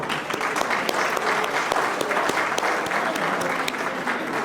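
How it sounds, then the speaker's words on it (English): Sustained applause from a gathered audience at an evening event, dense and steady throughout with scattered sharper claps standing out, fairly close and filling the whole stretch. "I want everybody to give themselves a round of applause for making it out today"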